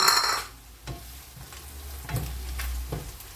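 A generous heap of garlic fries in a pan for paksiw and bagoong, a sharp sizzle with several stirring scrapes and spatula knocks, close and loud.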